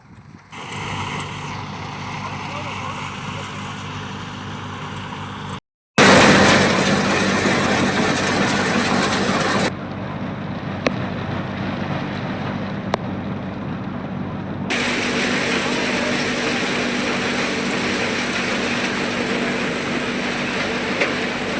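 A tractor-driven groundnut threshing machine runs steadily and loudly throughout, a continuous mechanical drone with a brief cut partway through.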